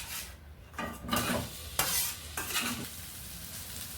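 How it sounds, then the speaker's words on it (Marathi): Sliced onion fries in hot oil in a pan with a steady sizzle, broken by several scraping stirs of a spatula that swell the hiss in bursts, close and fairly loud with no talking. "आता आपला कांदा छानपैकी फ्राय झालेला आहे तेलामध्ये"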